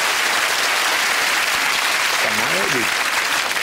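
Steady, loud applause from a studio audience at a TV game show fills the whole stretch, with a voice briefly speaking over it near the end.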